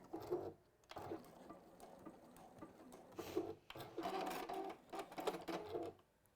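A sewing machine running a triple stitch in short bursts, rapid mechanical needle clatter starting and stopping with brief pauses, close and fairly quiet with no talk over it.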